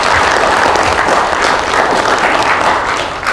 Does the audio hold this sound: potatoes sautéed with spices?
no